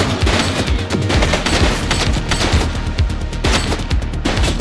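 Sustained gunfire in The Precinct, a dense fusillade of rapid, loud automatic and single shots cracking close together without pause, with no voices over it.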